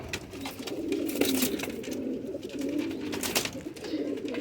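Low, soft cooing of a male pigeon close by, repeated murmurs over a steady background with scattered rustles and faint clicks.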